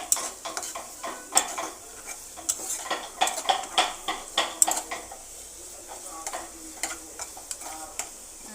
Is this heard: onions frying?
yes